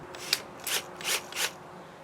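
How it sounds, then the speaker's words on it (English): A Scotch-Brite style abrasive grinding pad scrubs inside a pipe in three separate rasping strokes, close and fairly quiet, with a small click near the start and no talking. "I got this pad here, kind of like a Scotch-Brite grinding pad."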